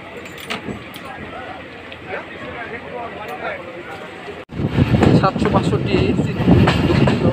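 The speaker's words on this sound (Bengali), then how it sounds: "কাকরদারি এক্সপ্রেস ট্রেনটি কোটচাঁদপুর রেল স্টেশন প্রস্থান করল" Rumbling Sagardari Express train with clattering wheels and metallic rattles, growing louder and heavier partway through as it departs Kotchandpur railway station; faint voices in the background.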